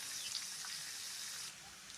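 Onions sautéing in a pan for kothavarangai kuzhambu, a steady soft sizzle and hiss of frying, faint and continuous, with a slight drop in intensity near the end.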